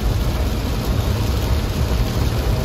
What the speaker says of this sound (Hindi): वो बारिश बहुत तेज हो रही है